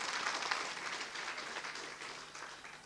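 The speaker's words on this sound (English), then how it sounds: "let's give a big round of applause to the Honourable Minister" Audience at a school sports indaba applauds the Honourable Minister, a dense wash of clapping heard from a distance that slowly fades over a few seconds.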